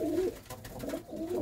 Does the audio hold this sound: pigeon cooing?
yes